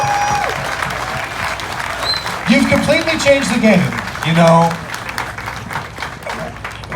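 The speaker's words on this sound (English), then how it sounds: "So I would like to give you a big round of applause for that." Audience applause rising behind someone speaking, the clapping building and swelling under his voice before fading.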